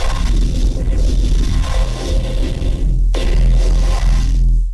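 A sustained synthesized bass tone run through a saturator and an OTT multiband compressor macro rack, loud and gritty with dense buzzing harmonics, cutting briefly and restarting before stopping abruptly.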